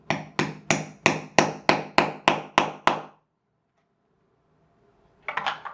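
A hammer taps a broken drill bit through a jammed tripod part: about ten sharp, evenly spaced metallic strikes, close and loud, then silence and a brief faint scrape at the end.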